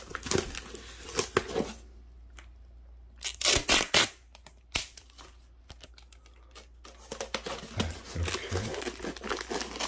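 Tape being stuck over a heat pack on a plastic shipping bag for tropical fish, with crinkling plastic and short sharp tape rips coming in close bursts and quieter stretches between them.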